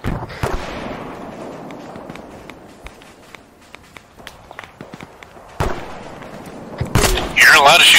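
Vehicle ammunition cooking off in Arma 3, sharp scattered cracks and pops over rumbling background, building to a loud dense burst near the end.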